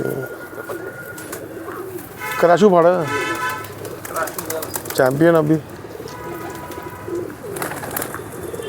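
Champion racing pigeons coo in two clear rounds of throaty, wavering calls close by, with someone talking over and between them.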